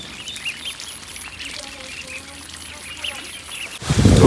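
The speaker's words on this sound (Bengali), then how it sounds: "এই দেখো হাঁসের বাচ্চা কয়দিন হয়েছে?" Six-day-old ducklings peep and cheep in soft, scattered calls at close range, with light patter and background noise, before a loud burst of wind-like rumble at the end.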